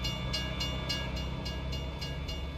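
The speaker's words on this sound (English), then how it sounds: "We just missed the train." A freight or passenger train rolling past a level crossing in American Truck Simulator, a steady mid-distance rumble with regular clacking beats as the cars go by, no talk over it.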